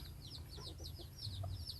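Wild junglefowl rooster in natural forest giving a run of soft, repeated clucks, fairly close, over a steady low background hum with no talk.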